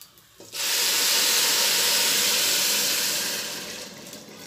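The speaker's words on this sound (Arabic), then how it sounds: "هنزل بقى بالشوربه بتاعتي." Meat broth poured onto spiced rice in a home kitchen for lamb kabsa, a loud steady hissing rush starting abruptly after a quiet moment and holding close up, easing slightly toward the end.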